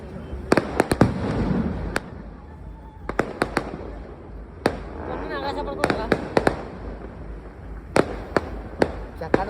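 New Year fireworks in Munnar, viewed from a distance: repeated sharp bangs and crackling bursts scattered irregularly throughout, with people talking underneath.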